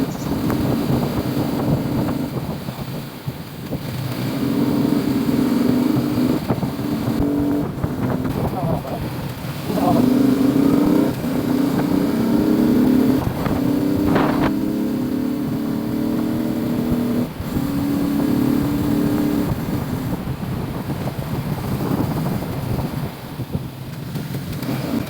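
A Kawasaki ZX10R motorcycle rides a long road at night, its engine droning steadily with rising and falling revs beneath heavy wind rush on the microphone, loud and close throughout.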